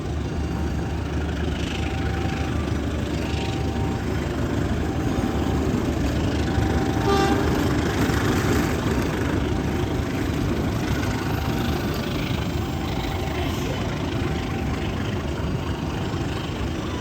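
Steady loud rumble and rush of the moving Sritanjung passenger train running alongside a diesel shunting locomotive near the Pertamina loading yard, a continuous dense engine and wheel roar with faint tonal whines throughout.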